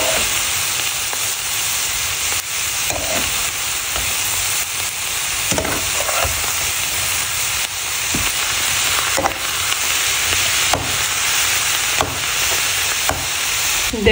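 Mustard greens stir-fried with onion, green chili and prawns sizzle steadily in a pan, with repeated scraping stirs and occasional clanks of a spatula throughout, loud and close with no talk.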